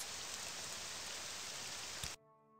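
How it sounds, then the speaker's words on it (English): Steady rain hisses down in a modded video game, a dense even wash of drops that cuts off abruptly near the end, leaving soft tonal music. "It started to rain, so I'm getting out of here."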